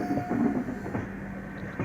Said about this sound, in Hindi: हमारी ट्रेन को गाज़ियाबाद स्टेशन पर का हॉल्ट नहीं दिया गया है, तो इसको स्किप करेगी।